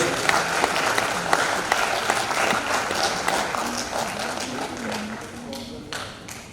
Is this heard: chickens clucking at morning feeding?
no